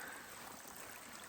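A small creek flows on a solo hiking trip in moose country, heard as a faint, steady trickling wash throughout with no talking.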